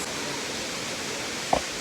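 A waterfall in Kenya makes a steady, full-bodied rush of falling water that stays even throughout, with one brief soft knock near the end.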